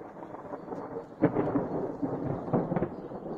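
Thunder from a nearby thunderstorm over a forest hiking trail in Haute-Loire and Ardèche, a low rumbling with a few sharper cracks, moderately quiet and rolling continuously for several seconds.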